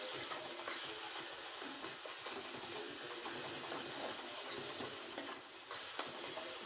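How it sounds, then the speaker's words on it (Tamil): Ground masala sautéing in hot oil for a paarai fish kuzhambu, a steady broadband sizzle and hiss with faint scraping stirs, continuous and close, with no talking. "எண்ணெயிலேயே இந்த மசாலா வந்து இப்படி வதக்கி விட்டுக்கோங்க"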